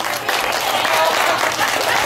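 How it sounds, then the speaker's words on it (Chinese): A crowd gives warm applause to school principal Lin at a Lunar New Year charity gathering of a Buddhist society in Taoyuan, with dense, even clapping heard up close for a short burst. "那应该先给咱林校长一个温暖掌声。"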